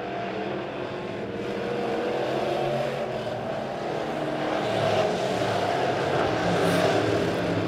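Midwest modified race cars in a heat race at Springfield Raceway, a steady loud engine roar from the pack that swells gradually toward the end, with no voices.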